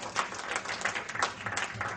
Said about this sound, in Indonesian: clap our hands to the Lord